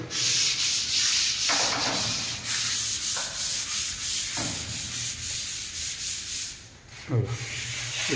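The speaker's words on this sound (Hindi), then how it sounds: "इथे पॉलिशचं काम चालू आहे." Polishing work on an office surface, with steady abrasive sanding strokes rubbing back and forth continuously, fairly loud and close, with brief pauses between passes.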